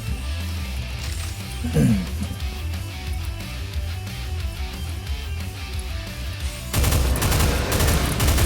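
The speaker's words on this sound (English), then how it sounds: "The chain gunners are going to start blasting me as soon as they hear me" Chaingunners in the Doom mod Final Scourge keep up rapid, continuous gunfire throughout, a dense rattling barrage with thudding booms that grows louder and harsher near the end.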